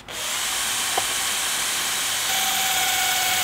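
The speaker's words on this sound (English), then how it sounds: "we're just going to drill our two pilot holes through the wood." A power drill bores two pilot holes through wood for van-build cupboards, a loud, steady high whine running the whole time with a brief pitch change partway through.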